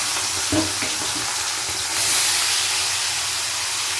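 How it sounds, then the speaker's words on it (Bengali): A fish head sizzles in hot oil in a wok as it is fried for a cabbage dish, a steady loud broadband hiss held close for the whole stretch with a brief clatter near the start. "এপিট ওপিট করে খুব ভালো করে কিন্তু মাছের মাথাটা ভেজে নিতে হবে"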